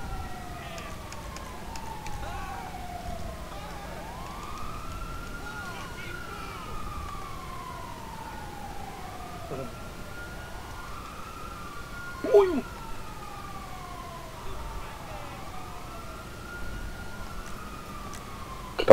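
Police sirens in Grand Theft Auto V wail in repeated rising and falling sweeps, steady and moderately loud, with a brief sharp knock partway through.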